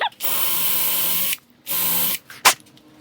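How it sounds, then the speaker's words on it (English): Drill boring small pilot holes into jarrah hardwood for a heart-shaped box, two sustained high whirring bursts with a pause between, then a short sharp burst, close and loud. "we're going to drill a couple of little pilot holes in there"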